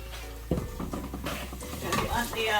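A spoon stirs ketchup into garlic sautéed about three minutes in a pan, giving a close, steady scraping and soft sizzle with a few sharp clinks against the pan over roughly two and a half seconds.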